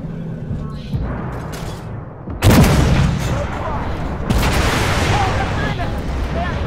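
A missile fired at a tank in a video game hits with a heavy, close boom that cuts in sharply, followed by rumbling blast noise and a second impact, while a player speaks over it.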